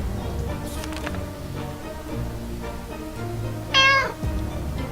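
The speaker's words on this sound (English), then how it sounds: "that fucking meow is loud every time." A loud cat meow from the survival game 60 Seconds rises clearly over a steady backdrop of game music and ambience, a single drawn-out call near the end.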